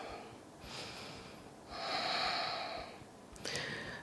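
Slow breaths drawn in and out through the nose while holding a yoga side angle pose, a soft inhale swelling to a longer, louder breathy rush, then a fresh intake at the end, close and quiet with no talking.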